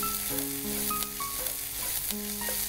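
Garlic lightly sautéing in a pan on a cooking show, a steady close sizzle running underneath with a few tonal clinks and hums mixed in, with no talking.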